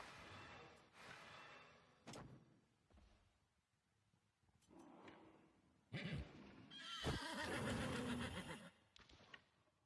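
Horse in the medieval strategy game Wartales giving several loud whinnies and snorts, spaced with quiet gaps and a few thuds and hoof clops, no speech.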